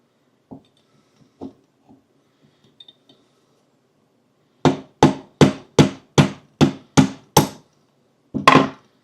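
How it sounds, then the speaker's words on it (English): A hammer taps a steel punch to drive a roll pin out of a Sig P365 pistol slide, with a few light scattered taps followed by eight sharp, close metallic strikes in steady rhythm and one final blow. "our little punch. And we will give it a little tap."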